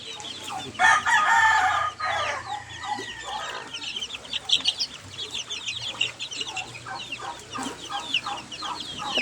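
Chickens and chicks at a backyard farm cluck and crow steadily, with a loud rooster crow early on and busy peeping and clucking continuing throughout, fairly close.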